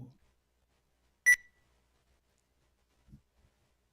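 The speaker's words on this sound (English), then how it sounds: "When I count, everybody press the buzzer." At a school quiz competition, a single short, sharp electronic buzzer beep sounds from a team's buzzer, with faint thumps and room noise before and after.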